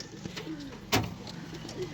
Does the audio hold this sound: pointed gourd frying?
no